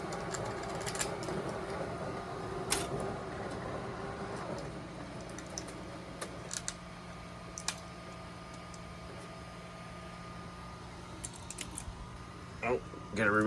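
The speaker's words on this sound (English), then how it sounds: "This printer's trying to reload the filament again." A 3D printer retracting and reloading its filament gives off a soft, irregular mechanical clicking and whirring, low and fairly quiet, beneath a steady background hum with occasional sharper ticks.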